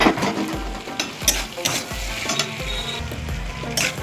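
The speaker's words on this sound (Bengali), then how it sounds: "এবার আমি ভেজে রাখা আলু আর টমেটোগুলো দিয়ে আর একটু কষিয়ে নেব।" Fried potatoes and tomatoes with peas being stir-fried in a pan, a close, lively sizzle broken by repeated rhythmic thumps and scrapes of the spatula against the pan, with no one speaking.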